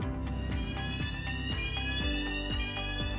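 A loud fire alarm rings steadily, its electronic tone pulsing in rapid repeating bursts about twice a second, with no other sounds.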